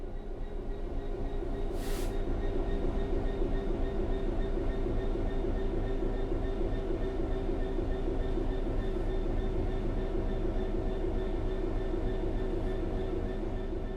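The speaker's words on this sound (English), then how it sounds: "The train will then coast on level ground, and the train will only slow down very gradually." Train coasting on level ground in the Train Sim 3 video game, a steady, continuous rumbling rail drone with a low mechanical hum and faint rhythmic wheel clatter, no talk.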